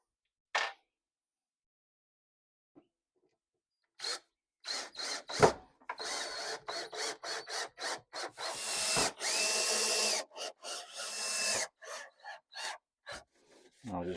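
A drill drives 1 1/4 inch interior wood screws into wood, a series of short whirring bursts separated by brief pauses, close and fairly loud, with one longer sustained run midway and no talking.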